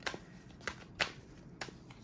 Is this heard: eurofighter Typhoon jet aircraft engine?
no